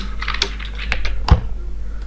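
Keys clack on a computer keyboard while an IP address is typed, a handful of crisp, uneven taps with one heavier thunk near the end, close and clear over a steady low hum.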